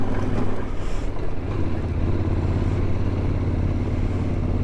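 A CFMoto CL-X 700 Adventure motorcycle ridden off-road: a steady low engine drone mixed with heavy wind rush over the microphone, continuous and fairly loud, with no talking.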